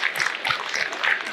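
Short burst of applause for challenge winners at an engineering conference event, a lively crowd clapping briefly at close range.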